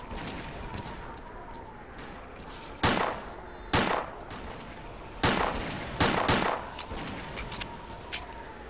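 Gunfire in the video game S.T.A.L.K.E.R.: Clear Sky, several sharp single shots and short bursts cracking at irregular intervals over a steady ambient background hum, fairly close.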